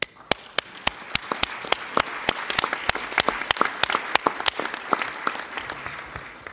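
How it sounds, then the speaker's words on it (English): Clapping at a UN debate session on the crisis in Venezuela, applauding panelists and witnesses. Sharp, closely spaced individual claps ring out over a soft background of wider applause in a large hall. "I ask everyone to give our panelists and those who bear witness a round of applause"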